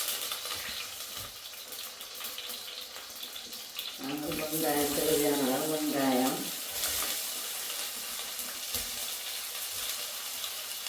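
Mustard, fennel, cumin and fenugreek seeds hit hot oil for a fish curry, giving a sudden loud sizzling hiss that swells for a couple of seconds and then settles into a steady crackle.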